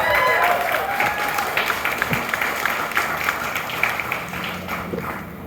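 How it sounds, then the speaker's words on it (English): A crowd at a newspaper's 150th anniversary celebration claps for a live band, moderately loud sustained applause with scattered sharper claps and faint background voices and tones mixed in. "a round of applause for the band"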